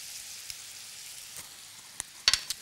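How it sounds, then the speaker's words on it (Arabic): Cuttlefish (sepia) with garlic, salt, cumin and black pepper frying in a pan, a soft steady sizzle with a few sharp pops and spatters near the end. "نقليو هاد السيبيا هكذا"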